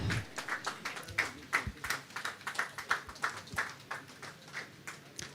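Audience at an evening event honouring the NITDA Director General claps in a standing ovation, a fairly faint, uneven patter of many hands with individual claps standing out at a moderate distance.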